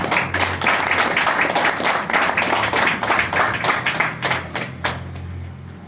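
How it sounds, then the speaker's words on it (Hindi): An audience gives steady applause for Jay Shankar at a business product presentation, a dense run of claps that tapers off near the end. "तो एक बार जय शंकर जी तालियां हो जाए प्लीज सर।"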